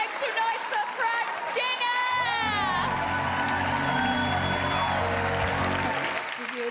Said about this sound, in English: make some noise for Frank